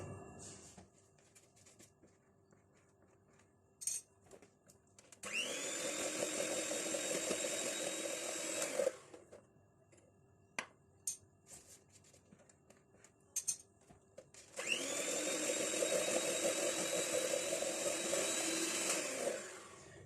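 Electric mixer beating butter and caster sugar, two sustained whirring runs of several seconds each, close and steady, separated by quiet gaps with clicks and taps.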